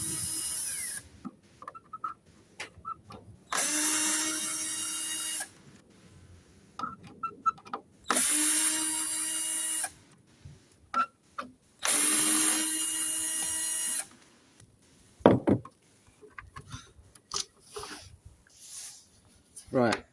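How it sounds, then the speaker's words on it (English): A small power driver whirs in three sustained bursts, close up, as four Allen head bolts are backed out of the rear skid plate of a Traxxas X-MAXX RC truck, with quiet clicks and handling sounds between bursts. "Now we take off the rear skid plate, which is a matter of taking these 4 Allen headed bolts off."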